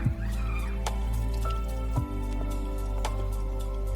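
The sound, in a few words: mercury poured through filter cloth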